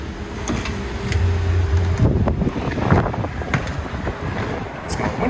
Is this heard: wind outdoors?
yes